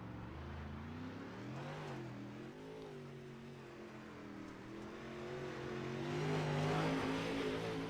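Midwest modified race car running a lap around the track, a steady engine drone with rising and falling pitch as it circles, growing louder toward the end as it nears.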